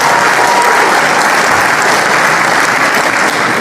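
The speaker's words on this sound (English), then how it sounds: "So we just clapped for Ben comparing primates to humans" Loud, dense applause from an audience at a campus debate, a steady roar of clapping held throughout with no pauses.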